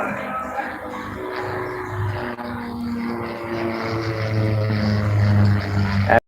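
Light aerobatic aircraft with UL 260i engines at an airshow, moving away in a continuous buzzing propeller drone that holds steady and swells a little louder toward the end before cutting off.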